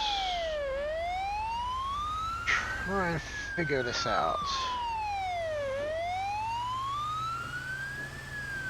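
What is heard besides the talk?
fire truck siren in video game GTA 5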